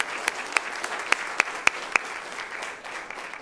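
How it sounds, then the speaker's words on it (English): Audience at a Broward County Public Schools student recognition event claps steadily, with sharp individual claps standing out from the crowd's continuous applause. "So let's give him a round of applause."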